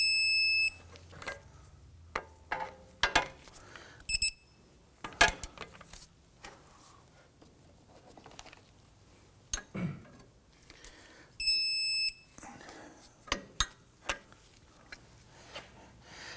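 Electronic torque wrench beeping in short high-pitched bursts as it reaches set torque while front ball joints are tightened on a 2003-2014 Volvo XC90, mixed with clicks and tool knocks in a quiet workshop.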